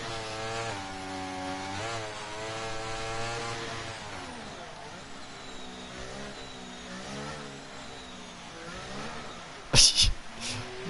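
Car engine in a racing video game revving and whining as the car drifts and spins donuts, pitch rising and falling continuously, with a couple of sharp bangs near the end.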